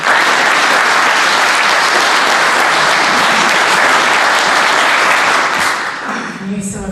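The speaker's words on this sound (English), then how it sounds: "Use some of your seconds for applause," Loud, sustained applause from the audience at a 2019 Wokingham election hustings fills the room steadily, then tapers off near the end as a voice begins to speak.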